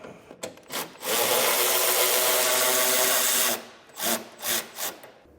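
A 10 mm socket on a wrench loosens a headlight mounting bolt by a car's wheel well. One sustained, close, gritty whirring run stands between short bursts of ratcheting and rubbing.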